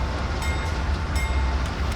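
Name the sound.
locomotive engine throttled to notch 2, Train Simulator 2019 video game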